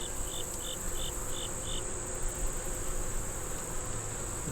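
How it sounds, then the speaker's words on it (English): Honey bees hover and buzz steadily around a hive feeder outdoors, a continuous insect drone with a few brief higher chirps early on, fairly close and alone with no talk. "And my bees have a situation here with their feeder"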